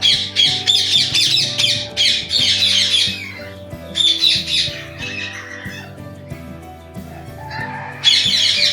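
A breeding pair of violet ringneck parrots gives repeated loud, harsh squawks in close, overlapping bursts, with brief pauses between calls.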